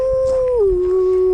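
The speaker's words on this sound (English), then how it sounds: "all of a sudden you could hear from outside was these howling sounds" Howling heard from outside through an open window during an urban exploration at night, sounding like a dog: a loud sustained tonal wail that slides down in pitch and holds, with no speech over it.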